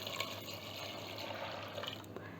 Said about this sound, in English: So I'm adding 2 glasses of water to it.